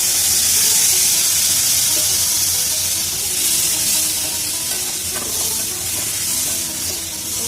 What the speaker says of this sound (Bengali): এবারে আমি জল ধোয়া মশলাটা দিয়ে দেবো।